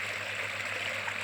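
Small waterfall in a homemade garden pond, a steady, even rush of falling water with a soft hiss throughout, fairly close and alone with no voices.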